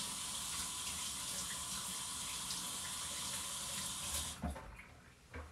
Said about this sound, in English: washing it out real quick.